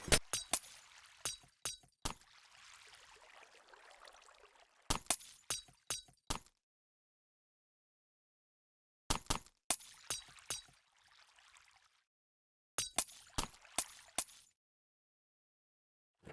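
Blocks are dug out one after another in Minecraft while water flows between the hits. Sharp crunchy breaking sounds come in quick clusters, separated by stretches of silence and a softer flowing hiss.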